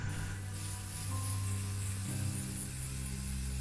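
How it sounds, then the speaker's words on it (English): A rust spray can used in a video game gives a steady, fairly quiet hiss lasting about three and a half seconds over a low background hum, with no talking. "use the rust spray."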